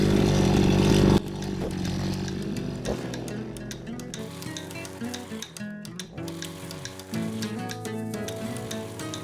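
A chainsaw cuts wood for a homemade wooden planter at a dacha in Donbas, opening with a loud full-throttle burst before settling into a quieter idling rasp.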